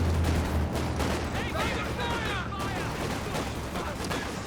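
Machine gun fire in a Company of Heroes 2 battle: dense rattling bursts with booms and overlapping gunfire, loud and continuous, while a voice talks over the combat.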